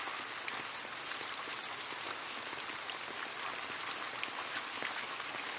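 Summer rain falling steadily, a dense hiss of countless drops pattering on surfaces at an even, moderate level with no pauses.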